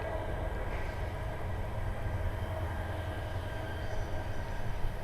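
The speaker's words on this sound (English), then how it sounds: "Oh, train! I love trains." A train rumbles past with a steady low roar and faint rail noise, continuous and fairly close, with no talking.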